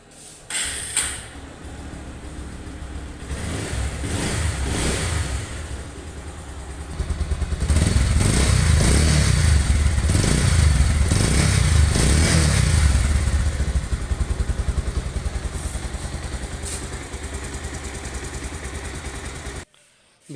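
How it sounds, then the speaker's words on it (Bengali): A 2022 Bajaj Pulsar single-disc motorcycle in fresh condition idles, then its single-cylinder engine is throttled up into a loud, sustained rev and eased back down, heard close and alone. "বাইকটির সাউন্ড কোয়ালিটি দেখলেন, পিক আপ টেনে এবং ছেড়ে দিয়ে দেখালাম"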